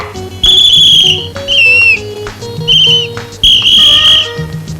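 A person whistles loud, sustained high notes in several separate bursts, with some bending of pitch, over a low steady background.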